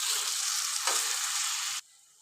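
Sliced radish frying in hot oil with spices, stirred in the pan, giving a loud, steady sizzle with a brief scraping stir partway through before it cuts off abruptly.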